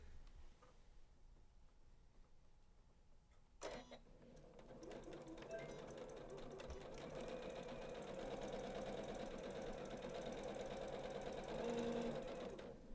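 A Janome sewing machine stitches a side seam on a Menagerie bag. After a quiet moment it starts running in a steady, fast, even whir that grows slightly louder and continues without pause.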